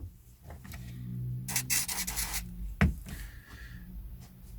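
A disc from a collection of western films is rubbed and polished by hand, a steady scuffing friction with one sharper burst of swishing strokes midway and a small knock, close and fairly quiet.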